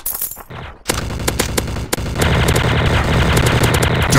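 Rapid automatic fire from a TMP submachine gun in a Special Ops shooting game crackles loud and close, starting in short bursts and settling into a continuous stream of shots.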